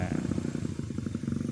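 A trail motorcycle engine labors up a muddy climb in rainy-season conditions, a steady pulsing low-pitched rumble with rhythmic throttle beats, close and continuous throughout.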